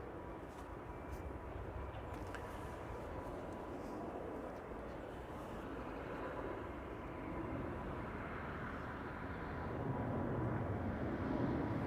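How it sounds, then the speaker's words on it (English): Emirates flight 146 to Dubai departing Schiphol on runway 24, a distant jet roar held steady throughout and swelling slightly toward the end, with faint low rumble beneath. "Emirates flight 146 on its way to Dubai."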